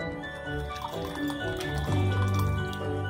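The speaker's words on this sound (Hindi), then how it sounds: "पानी भी हमारा बॉईल हो चुका है, अब इसे हम कुकर में डाल देते हैं।" Boiled tea-leaf water poured into a pressure cooker while making Punjabi chole, a steady liquid stream splashing and gurgling close by, growing fuller toward the end with no talk.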